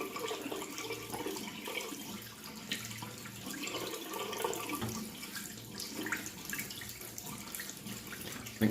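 Water runs steadily from a tap for rinsing during a citrus shave, a soft, continuous splashing stream heard close with no talk.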